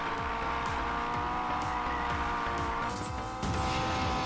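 Honda S2000 drifting in Need for Speed Payback, its engine revving steadily and loudly with rising gear pulls while tires squeal and skid under the constant engine drone, no speech.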